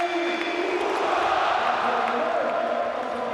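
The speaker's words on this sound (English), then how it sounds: "a big welcome from the crowd for Aubameyang" A football stadium crowd in Dortmund welcoming a player, a broad sustained roar and cheering from the stands, steady and fairly distant throughout.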